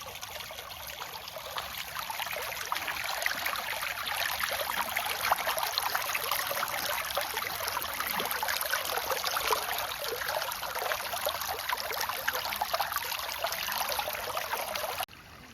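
River water flows in a steady, broad rushing wash at a provincial riverside, continuous and moderately faint for about fifteen seconds and then cutting off abruptly, with no one speaking.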